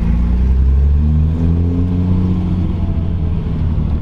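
A Datsun 240Z engine revs close by, a loud steady rumble with rising and falling harmonic tones as the throttle is pressed and eased, heard from inside the car.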